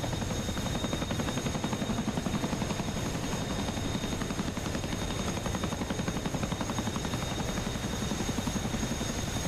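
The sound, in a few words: Chinook helicopter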